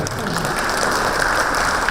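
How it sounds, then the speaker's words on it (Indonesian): Applause from an audience at a medical symposium luncheon, honouring the speaker's mother; dense, steady clapping fills the whole stretch without a break. "Makanya tepuk tangan buat ibu saya."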